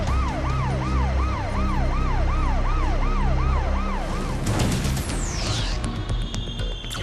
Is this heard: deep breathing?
no